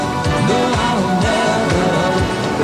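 A song plays loudly and continuously, with a steady beat and busy layered music from start to finish, recorded off mixed TV broadcast footage.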